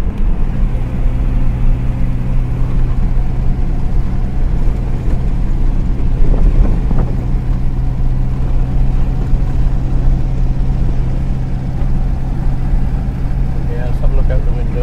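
An MG YA car engine drones steadily and loudly at cruising pace after an upshift into fifth gear, a continuous low hum with a person talking over it.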